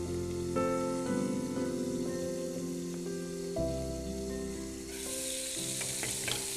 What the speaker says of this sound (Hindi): इस कलेजी को 2 से 3 मिनट के लिए आप ढक के पका लीजिए